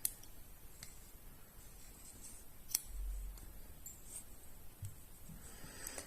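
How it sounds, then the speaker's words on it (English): A single snip of scissors cutting crochet yarn during a colour change on a winter hat, a faint crisp click over quiet room noise, with a few light handling ticks around it. "I'm going to chain 1 and cut my yarn"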